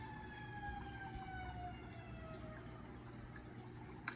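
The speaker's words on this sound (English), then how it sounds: "That siren could be significant for someone to pay attention to a specific situation here." A faint, distant siren wails in slowly falling tones over a low background hum, ending with a small knock.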